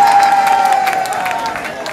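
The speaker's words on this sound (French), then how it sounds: "Applaudissez pour le préfet qui travaille le samedi." Crowd clapping and cheering at a Pan-African march rally, a dense burst of applause that stays loud and then slowly eases, mixed with a sustained tone and some shouting voices.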